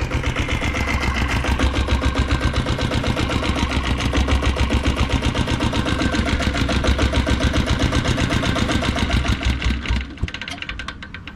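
A 7.5 HP vehicle engine runs steadily at idle, a rapid regular chugging pulse heard close and loud for about ten seconds before it cuts off abruptly near the end.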